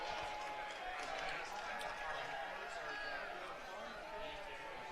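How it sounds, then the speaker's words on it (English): Faint, steady crowd murmur and chatter fill a college baseball stadium during a Stanford versus Santa Clara game, a diffuse bustle with no single standout sound. "You can hear a bustling crowd here at Schott Stadium."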